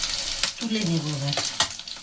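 Eggs fry in a pan with a soft hiss and crackle while a person speaks briefly over the cooking.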